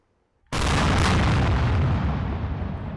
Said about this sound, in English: Thailand and Cambodia exchanged heavy artillery fire for a second day on Friday